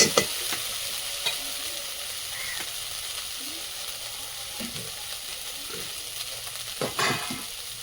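Sliced potatoes and beans go into hot oil in a kadai and fry with a loud, close sizzle, stirred with occasional scraping knocks and a sharper burst near the end; no one speaks.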